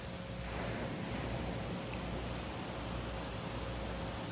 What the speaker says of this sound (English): Sit with the ocean, listening to the waves flowing in and out